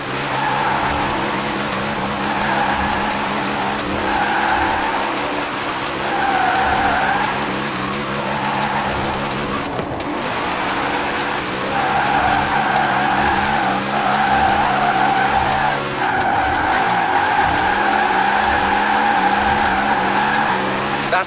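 A Formula Drift car in Forza Horizon 4 drifts through switchbacks, its engine droning loud and continuous with sustained tire squeal and shifting revs, and a voice talking over it.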